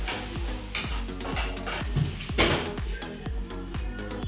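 Chicken and spinach frying in a pan on the fire, with a steady sizzle under a regular rhythm of tossing and stirring knocks, about two per second, close and fairly loud.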